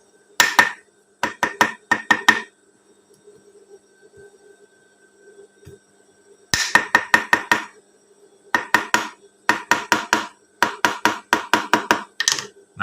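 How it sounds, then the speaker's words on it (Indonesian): Hammer blows tapping a sewn pocket flat while a garment is made, coming in quick rhythmic bursts of sharp knocks separated by pauses, close and loud with no talk. "pas waktu mukul-mukul pakai palu"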